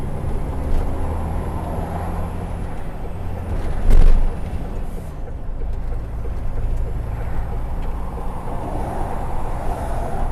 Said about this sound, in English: Come on, truck, put some fucking effort into it, will you?